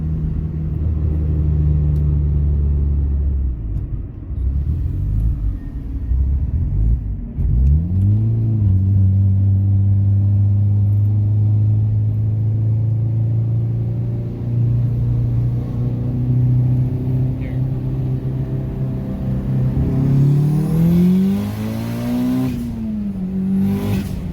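A Mitsubishi Mirage converted into an Evo IV coupe with a built 2.0L engine, driving: a loud, close engine drone that holds steady, then rises and falls through revs, with no talking.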